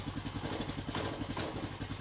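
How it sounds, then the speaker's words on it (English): A Honda Foreman 450es ATV engine runs steadily at idle, a loud, close, even putter with a rhythmic low chug and slight mechanical clatter, no voices. "I like the way that engine sounds"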